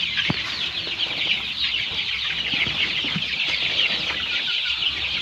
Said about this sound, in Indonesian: ayam-ayamnya sehat semua